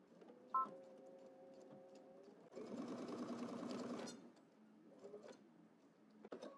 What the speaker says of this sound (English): We'll go ahead and back stitch.